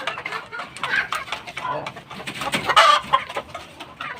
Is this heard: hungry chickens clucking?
yes